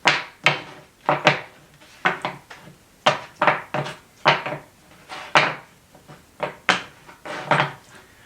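Wooden log pieces shuffled by hand, knocking and clattering together in a steady series of sharp, close wooden clacks with no talking.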